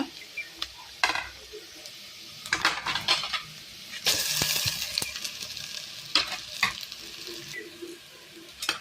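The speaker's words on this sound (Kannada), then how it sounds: "ಮಸಾಲೆ ಪೂರ ಪಾಡ್ದ ಅದು ಒಂಚೂರು ಎಣ್ಣೆ ಫ್ರೈ ಮಾಡ್ತದ" Masala fried in a little oil for a Tulu-style uppad pachil sukka dish, giving a soft sizzle under clinks and scrapes of a spoon stirring in the pan, with a louder burst of frying midway.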